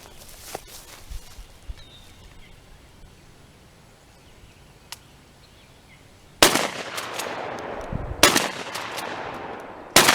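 Shotgun with a 20-inch barrel firing outdoors, two loud sharp blasts a couple of seconds apart after a stretch of quiet ambience with faint clicks.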